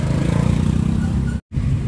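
A motorcycle engine drones loud and close amid street traffic, steady for over a second before a sudden brief cut-out, then resumes.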